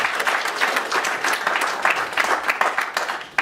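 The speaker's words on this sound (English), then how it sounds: "Give Gillian a round of applause as she comes in" Steady applause from an audience greeting a guest arriving at a live event at the Kings House, many hands clapping densely and continuously with no speech.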